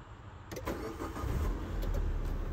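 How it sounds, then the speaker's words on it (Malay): A 2018 Proton Preve Refinement car engine cranks and catches after a quiet moment, then settles into a steady idle close by. "kita kasih start dulu enjin ni"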